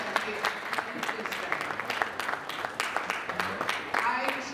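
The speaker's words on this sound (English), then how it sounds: "Please, can we clap for them, the ladies, please?" Audience at a leaders summit panel applauding the women, sustained crowd clapping with scattered louder claps and voices mixed in.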